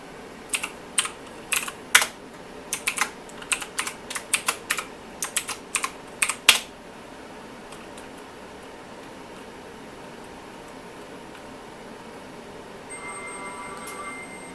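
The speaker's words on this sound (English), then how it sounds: "So I've got this RGB gamer keyboard hooked up to this thing." Rapid clacky keystrokes on an RGB gaming mechanical keyboard connected to a Sun Ultra 45 workstation, in uneven bursts, then the typing stops, leaving a quiet hum and a faint electronic login tone near the end.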